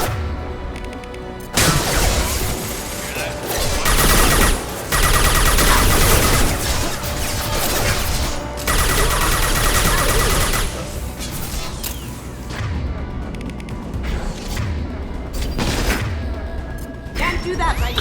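Heavy, sustained gunfire in the Mass Effect 2 video game, with dense rapid bursts and booms filling the whole stretch, plus voices calling out over the shooting.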